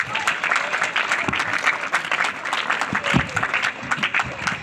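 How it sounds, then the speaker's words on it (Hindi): A school audience claps to welcome the chief guest, with loud irregular applause throughout and a voice speaking over it at points. "आप सब इनको स्वागत के रूप में अपने तालियों के साथ आप लोग धन्यवाद ज्ञापन करेंगे।"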